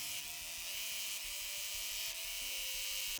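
Quilt border pieces are sewn on a sewing machine, whose steady, close motor whine fills the whole stretch with a fast underlying pulse and no talking.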